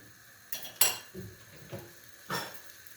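Steel pan handled and its lid set on, several separate metallic clanks and knocks spaced out over a few seconds, close and fairly sharp, with no voices.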